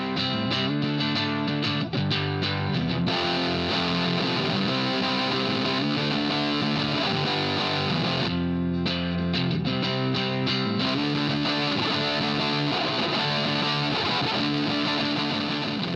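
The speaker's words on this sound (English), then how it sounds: "So here's what the Boss DS2 will sound like when you have it on your board." A Boss DS2 distortion pedal drives an electric guitar in a dense, sustained, saturated stream of chords and notes, loud and constant with a brief drop near the middle, no voices.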